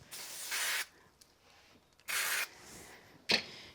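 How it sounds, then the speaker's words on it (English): Three bursts of spray glue hissing from an aerosol can, two longer pumps then a short final puff, with quiet pauses between. "I'll use a little bit of spray glue on that."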